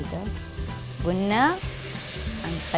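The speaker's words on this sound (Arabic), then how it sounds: "هنخليهم كلهم يتشوحوا، ابتدى يدبل معانا الطماطم ودبلت معانا كمان الفلفلية" Chopped tomatoes and peppers sauté and sizzle in a pan, with steady close frying and stirring scrapes while a voice talks over the cooking.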